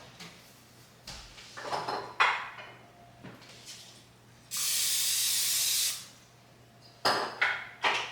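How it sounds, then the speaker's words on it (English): A spray can of cooking oil hisses in one steady burst of about a second and a half onto a cookie sheet, with clattering pans and kitchen handling noises before and after. "I'm just going to spray mine with oil."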